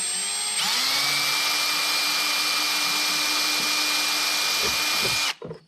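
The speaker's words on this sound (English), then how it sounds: "So we're gonna screw a hole in it, or drill a hole, just like down at the bottom" A power drill bores a small hole into a truck with a loud, steady high-pitched whine. It runs for about five seconds, then cuts off abruptly.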